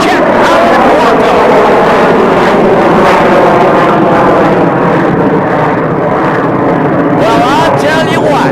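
Jet-powered Waco biplane with about 2,000 combined horsepower in an airframe of roughly 1,500 pounds roars loudly through an aerobatic flyby, a continuous dense engine roar with shifting pitch and a commentator talking over it.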